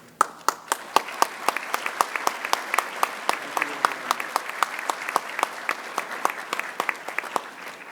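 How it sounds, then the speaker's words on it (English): An audience claps steadily at a scholarship recognition ceremony, sustained applause with sharp individual claps standing out over a dense, even patter, moderately loud and continuous throughout. "Round of applause."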